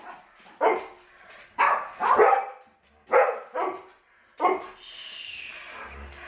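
Several dogs bark in short, loud bursts with pauses between them, followed by a softer whimpering or yipping sound near the end.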